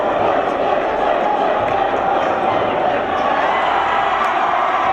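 A college basketball arena crowd cheers in a dense, continuous roar of many voices that holds steady throughout.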